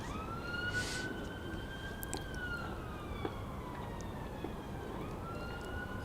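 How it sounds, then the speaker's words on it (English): A distant emergency siren wails with a slow rising and falling tone over a steady outdoor background at a county cricket ground, faint and continuous throughout. "The sound of sirens"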